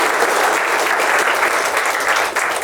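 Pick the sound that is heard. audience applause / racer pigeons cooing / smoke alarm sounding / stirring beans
audience applause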